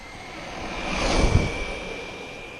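An HPI Jumpshot MT Flux RC monster truck running at about quarter throttle, a whining electric motor with a steady high tone that swells as it passes close by, then fades.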